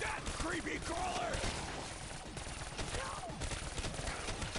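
Dense gunfire rattles in the Call of Duty 3 zombies mode, rapid shots layered over game sounds at a low, steady level, with a player talking over the action.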